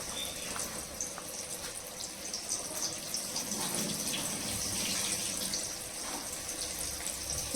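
Water runs steadily from a kitchen tap in a home kitchen, a continuous hissing splash that stays even and close throughout.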